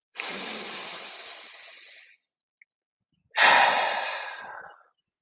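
Two deep, drawn-out breaths during a breathwork exercise, each a long airy rush lasting a couple of seconds, close to the microphone with silence between them.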